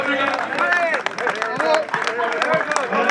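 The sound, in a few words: applause from spectators along a race-walking course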